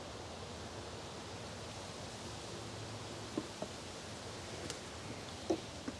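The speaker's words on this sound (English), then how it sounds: "Pouring the fresh stuff in." Fresh transmission fluid is poured into a 1995 Lexus SC300, a soft, steady, even hiss of trickling liquid at low level, with a few faint clicks and knocks near the end.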